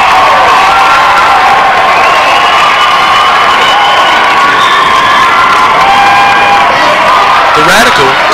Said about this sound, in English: The crowd couldn't be more pleased.